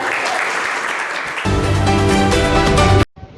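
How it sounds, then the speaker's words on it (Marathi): A crowd bursts into loud, sustained applause, many hands clapping together, with music swelling underneath before everything cuts off sharply. "जोरदार टाळ्या"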